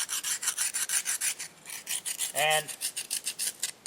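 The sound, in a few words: sharpening a blade by grinding on a piece of slate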